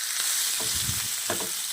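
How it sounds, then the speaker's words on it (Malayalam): Chicken pieces fry in a little sunflower oil in a home kitchen, giving a steady close sizzle with soft crackles and a few stirring scrapes throughout, with no talking. "പിന്നെ സൺഫ്ലവർ ഓയിലിനെ കേട്ടോ ഞാനിത് പൊരിച്ചെടുക്കുന്നത്"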